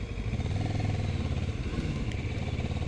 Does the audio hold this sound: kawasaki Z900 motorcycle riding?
yes